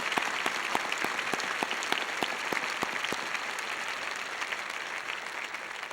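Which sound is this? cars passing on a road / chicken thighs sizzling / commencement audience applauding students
commencement audience applauding students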